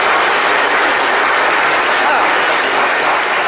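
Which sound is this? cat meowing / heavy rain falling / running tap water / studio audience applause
studio audience applause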